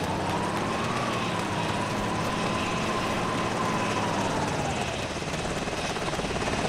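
A helicopter runs steadily throughout, its rotor and turbine forming a continuous loud wash with a faint whine that sags slightly near the end, close and constant.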